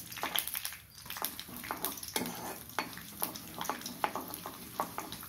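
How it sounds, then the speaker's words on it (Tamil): Mustard seeds and urad dal crackle and pop in hot oil while tempering a traditional gongura chutney, a dense run of sharp, irregular spits and sizzles close to the pan. "அதே எண்ணெயில் கடுகு உளுத்தம் பருப்பு போட்டு தாளிச்சுக்கலாம்."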